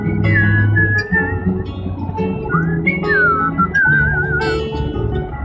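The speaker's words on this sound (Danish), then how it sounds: "Du skal fløjte." A person whistles a wavering, sliding melody up close, the bright tone rising and falling over a steady, low background drone.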